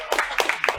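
A short burst of audience clapping in a room during a spoken storytelling set, several quick claps layered over one another at moderate loudness.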